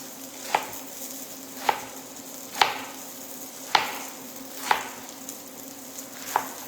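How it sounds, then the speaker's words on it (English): A knife thinly slices lettuce on a cutting board, six crisp, separate chops landing about once a second, close and clear over a quiet background. "Now I've got some lettuce, you guys. I'm going to thinly slice that"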